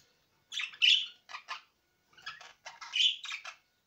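Several caged birds, six males and one female, chirping and squawking in two quick bursts of sharp, bright calls, close and fairly loud, with silence between and no talk.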